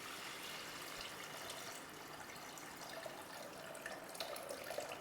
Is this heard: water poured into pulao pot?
yes